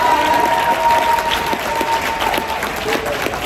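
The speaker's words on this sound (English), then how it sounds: "give him one more round of applause" An audience claps in a steady, dense round of applause at a live question-and-answer event, the sound close, full and sustained from start to finish with no voices rising above it.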